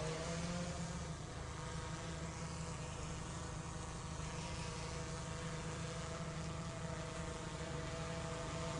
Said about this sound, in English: That's the drone taking off.